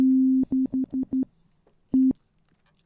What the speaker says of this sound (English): Let's put that back to a sine wave for the time being.